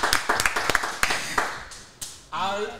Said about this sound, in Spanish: Reciban con un fuerte aplauso a Katie